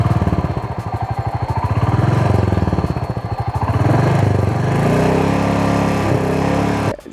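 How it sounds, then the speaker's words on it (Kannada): A Royal Enfield Meteor 350's single-cylinder exhaust thumps up close with a pulsing beat that rises and falls as it revs, then cuts off abruptly at the end. "ಈಗ ಒಂದು ಸಲ ಎಕ್ಸಾಸ್ಟ್ ನೋಟ್ ಕೇಳೋಣ ಆಯಿತಾ."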